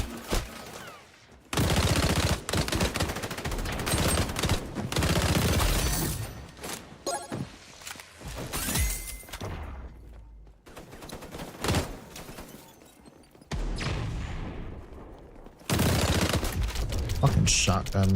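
Shotgun blasts in the video game XDefiant, loud bursts of gunfire coming in several separated volleys with short gaps between them, mixed with other game effects.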